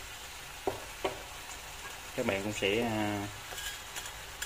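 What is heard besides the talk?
pomfret fish frying in fish sauce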